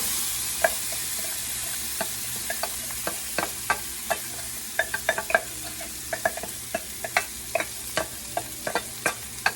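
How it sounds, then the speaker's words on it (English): Lentils stirred in a hot pan for lentil tacos, giving a soft continuous sizzle with frequent light scraping clicks that grow busier toward the end, close up and with no voices. "And then you want to add your lentils."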